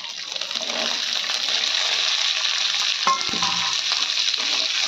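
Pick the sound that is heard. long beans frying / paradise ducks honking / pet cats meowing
long beans frying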